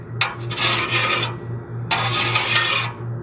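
A hand file rasping along the edge of a chainsaw bar to take off a burr, two close, even strokes separated by a short pause.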